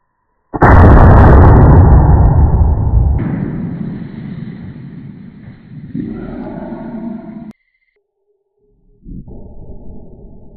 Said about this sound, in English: let me shoot the 700 grain bullet into all this stuff and see what happens